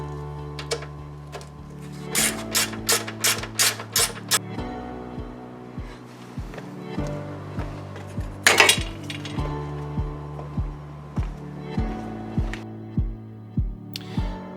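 Metallic ratcheting and clinking as M8 bolts are undone from an underbody shield on an Audi 2.7 bi-turbo, with bursts of quick ratchet clicks, tool taps and a short whirr, close and clear without talking.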